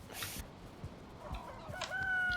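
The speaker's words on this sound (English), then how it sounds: "the hens in the nice hen house produce more eggs" Hens in a hen house in Valheim cluck close by in short repeated bursts, joined near the end by a longer rising crow-like call, with no voices present.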